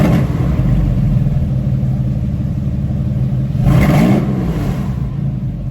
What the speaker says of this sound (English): Now let's give it a little rev.